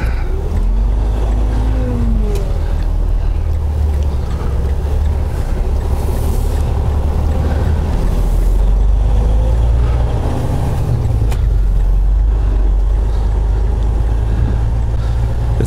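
A heavy truck releases its brake and pulls away on a busy night leaving Gary, Indiana, its deep engine drone rumbling continuously and loudly under wind buffeting, with a low surge around the middle as it gathers speed.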